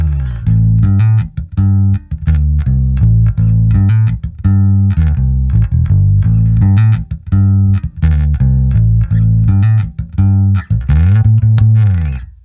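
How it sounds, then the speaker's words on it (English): Bass guitar played dry through an amp and cabinet with no effects, a loud, steady run of plucked notes with strong low end and a sliding phrase near the end, heard alone. "So just bass without any effects sounds like this."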